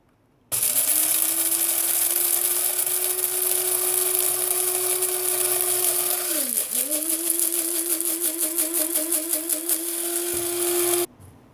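Electric grinder milling home-roasted coffee beans to a coarse grind, a loud steady motor whine running for about ten seconds, briefly dipping in pitch mid-way before rattling and recovering, then cutting off abruptly.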